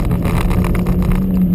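A 2018 Ford KA+ engine pulls hard under acceleration while overtaking on a road crest, a steady loud drone with wind rush over the whole stretch.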